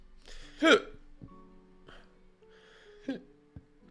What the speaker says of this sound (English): Excuse me, I got the hiccups.